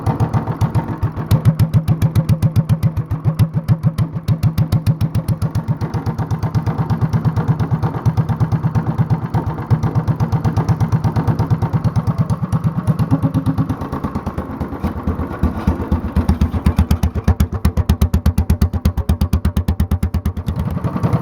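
A Honda clone small engine fitted with a 10 pound flywheel idling at low speed, a loud close steady rapid thumping beat that runs evenly throughout with a slight drop in pace partway.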